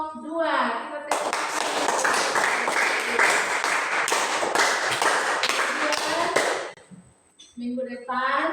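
Classroom students clap together for the best group, a dense, lively round of hand claps lasting several seconds, with a teacher talking briefly before and after.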